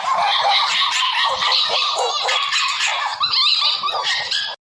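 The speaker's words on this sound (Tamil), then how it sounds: "யாத்தடி நாய் சுத்து போடுது டீ" A dog barks and yips loudly and continuously at close range, with whimpering and growling mixed into a rapid, agitated run of calls that cuts off abruptly.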